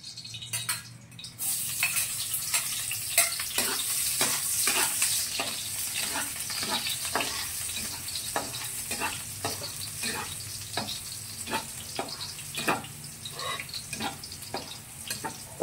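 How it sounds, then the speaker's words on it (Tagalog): Garlic frying in a pan as the base for pork feet adobo, a continuous bright sizzle with regular spatula strokes scraping through it, no talking. "Lagyan natin yung bawang. Una bawang."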